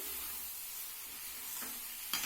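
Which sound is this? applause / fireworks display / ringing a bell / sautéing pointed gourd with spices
sautéing pointed gourd with spices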